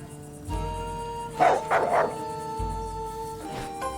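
A battle dog of the Volhound breed in the video game Dead in Vinland gives a few close barks and yips, clustered in quick succession over a steady background music bed, with no talking.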